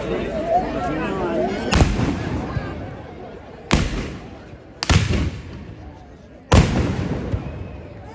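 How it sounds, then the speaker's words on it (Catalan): Fireworks at a Catalan national day celebration burst in four loud, sharp explosions spaced a second or two apart over crowd noise and conversation. "Ja hi ha prou, d'explosions per tot allà."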